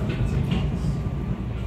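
A SEPTA Fox Chase Line regional rail train switching tracks, a loud continuous low rumble with faint metallic squeal overhead, heard from on board with no talking.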